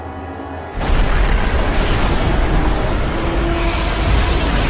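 Two trains colliding at high speed in a crash reenactment, a sudden loud roaring crash that bursts in under a second and sustains as a dense, grinding metallic rumble with a brief tonal squeal, no voices.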